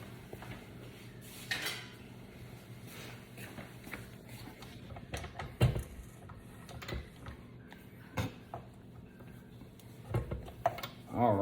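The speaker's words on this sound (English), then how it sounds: "you can use kind of any kind of kitchen utensil to clear off your mixer" A kitchen utensil scrapes and knocks against a stand mixer bowl and attachment to clear off dough, an uneven run of metallic clatters and scrapes. A steady background hum sits underneath, and people talk intermittently.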